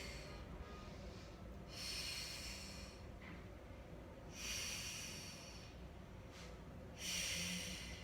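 Forceful breaths push out through the nose and mouth during a Pilates leg workout, three hissing exhales at steady intervals over a low room hum.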